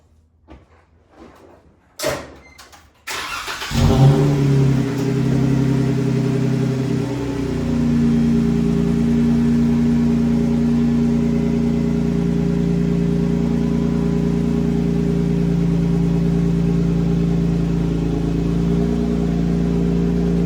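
Jeep started and driven out of a garage: a few clunks and knocks, then the engine catches and settles into a loud, steady idle and low rumble as it pulls away.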